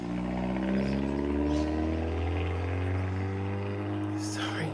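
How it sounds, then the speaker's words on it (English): A noisy car driving past outside makes a low, droning engine rumble that holds steady, then shifts slightly in pitch as it passes, with a voice audible indoors. "Sorry, noisy car going past."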